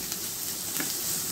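Chopped onions frying in a pan for a spicy duck curry, a steady close hiss and sizzle with faint crackles, no voices.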